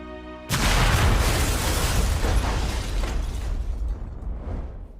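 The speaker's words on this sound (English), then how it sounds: "Oh my gosh, with an explosion." A sudden, loud explosion sound effect from the WandaVision series bursts in after half a second, then a dense, rumbling roar fades gradually over the next several seconds, with no voices.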